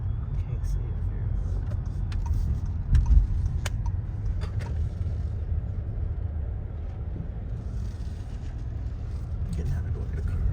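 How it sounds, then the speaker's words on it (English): Cars driving past on a street in Cape Girardeau, a low continuous traffic rumble with faint clicks and a brief louder thump, moderately distant. "Getting out of the way of the cars."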